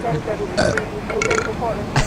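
A burp from a man playing GTA III, heard once mid-clip amid muffled background noise with brief voice-like bursts around it.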